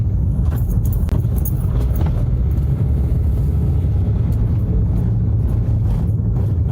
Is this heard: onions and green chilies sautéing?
no